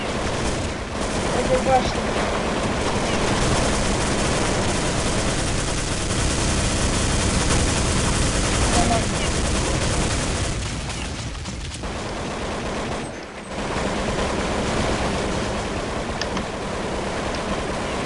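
M249 machine gun fire in Counter-Strike 1.6 on a jailbreak server, heard as a continuous, dense roar of rapid gunfire that fills the whole stretch, with one brief dip near the end.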